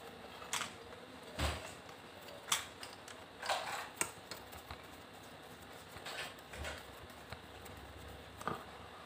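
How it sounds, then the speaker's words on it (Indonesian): A bolt is tightened by hand while assembling a 2 x 3/4 wavelength antenna with aluminium pipe: a few scattered, quiet metallic clicks and creaks spread across a near-silent background. "Kita kencangkan bautnya."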